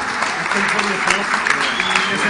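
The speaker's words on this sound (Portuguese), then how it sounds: "Uma salva de palmas para eles." Applause from an audience for the winning team at a quiz event, a steady dense wash of clapping that fills the room, with faint voices mixed in.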